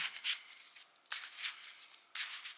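Yu-Gi-Oh cards in Ultra Pro matte sleeves are shuffled in three quick, crisp riffling bursts, close-up and fairly quiet, with no talking.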